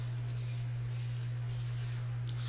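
Computer mouse clicks while working in Final Cut Pro X, a few sharp isolated clicks at irregular intervals over a steady low electrical hum.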